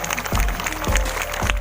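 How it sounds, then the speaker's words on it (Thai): Short burst of applause from a crowd at the opening of a Hmong New Year festival in a village, with clapping that rises in a few quick waves. "ขอเสียงปรบมือดังๆนะครับ"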